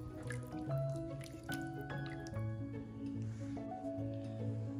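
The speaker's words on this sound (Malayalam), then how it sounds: "തേങ്ങയുടെ രണ്ടാം പാല് ചേർക്കാം." Second coconut milk is poured into a pompano fish curry with mango, making a soft, continuous liquid trickle and dripping beneath steady tonal background music.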